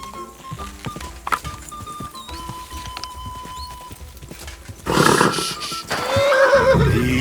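Horse in Kingdom Come: Deliverance II: hooves clip-clop steadily, then a loud, close whinny and neigh break out near the end over game ambience and faint voices.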